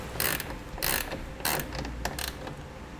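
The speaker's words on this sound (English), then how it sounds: "We'll snug this nut down to hold it in place." A ratchet wrench snugs down a nut on an air spring bracket while air helper springs are fitted to a 2016 GMC Sierra, giving four short bursts of clicking separated by brief pauses, close and moderately quiet.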